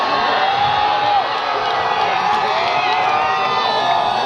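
A large crowd at an election campaign rally in Nanded shouts, whoops and cheers in a dense, loud, continuous roar throughout.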